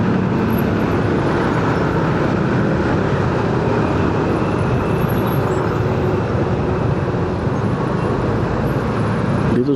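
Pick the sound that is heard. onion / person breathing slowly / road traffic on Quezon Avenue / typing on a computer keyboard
road traffic on Quezon Avenue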